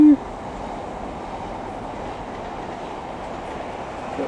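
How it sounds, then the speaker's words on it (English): A train rolls past in a loud, steady rumble with a faint rhythmic rattle of wagons, holding constant throughout. "Got a train."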